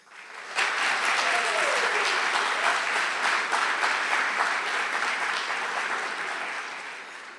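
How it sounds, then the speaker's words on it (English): An audience applauds a third-place winner in an early-stage startup competition at a business speaker event: dense, steady clapping that swells quickly, holds for several seconds and slowly tapers toward the end. "let's please give a big round of applause to our third place winner in the early stage, ToothPod."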